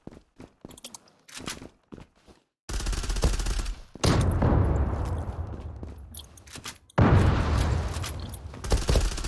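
Video game gunfire in a competitive shooter match: sparse single shots at first, then dense rapid bursts of automatic fire, loud and close, with short pauses between volleys.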